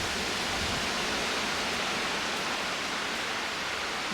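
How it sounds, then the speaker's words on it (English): Strong wind rushes steadily through deep forest trees, a dense, unbroken roar of moderate loudness with no voices or other distinct sounds. "Sounds like the wind's got up even harder now. Trees being bent around"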